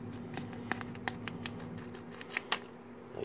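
Blind bag packaging for Avengers Infinity War hero tags being cut open with scissors, a quick run of crisp, close snips and crinkles over a steady low hum.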